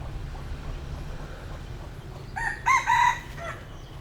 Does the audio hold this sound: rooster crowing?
yes